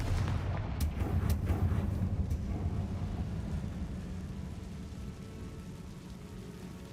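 Confringo spell explosions in the video game Hogwarts Legacy: a few heavy booming blasts near the start that roll off into a long, fading rumble.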